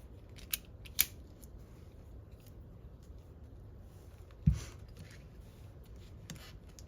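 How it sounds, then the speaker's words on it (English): Scissors cut heat shrink tubing during wiring work on a Kawasaki KE175 motorcycle build. Two close snips come early, then a louder, sharper cut a few seconds later against a faint, quiet background. "I have this piece of bigger heat shrink over the entire thing. And I think I'll cut this off."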